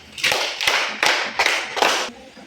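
Children in a storytelling lesson clap five times in unison, crisp close claps spaced evenly about once every half second, with no talking.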